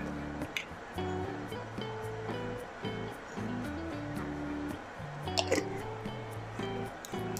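Mustard and cumin seeds sputter and crackle in hot oil in a home kitchen, a dense, close, continuous frying sizzle with scattered pops and a faint voice underneath.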